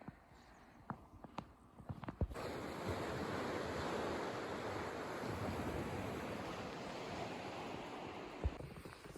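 Ocean surf washing steadily onto a snowy beach in winter, a broad continuous rush of waves after a few scattered crunchy thumps at the start, heard close and alone.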